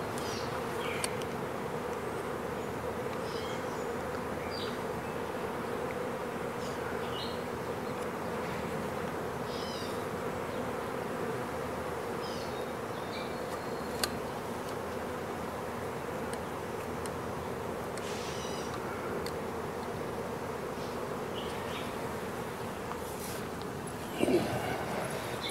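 Steady insect buzzing fills the scene, a continuous drone of bees close by, with faint background noise and a brief bump near the end.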